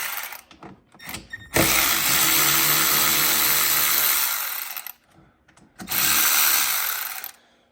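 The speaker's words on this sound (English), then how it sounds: "Power tool is the only way to go." A power tool whirs in two loud bursts of several seconds each, removing 10 mm bolts from a Kawasaki Ridge door, with brief quiet pauses and faint clicks between them.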